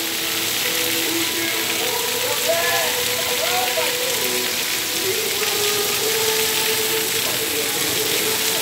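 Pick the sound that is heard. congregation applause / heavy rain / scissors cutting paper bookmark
heavy rain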